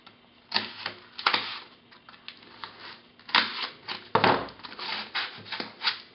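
Holes are stabbed and cut into an inflatable pool toy, a series of sharp close clicks and rustling, scraping cuts in an irregular rhythm with short pauses between.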